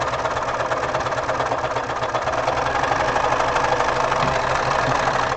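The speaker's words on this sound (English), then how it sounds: "I freaking love serging." Serger overlock machine running continuously and close, a steady fast mechanical whir with rapid stitching pulses, alone without talk.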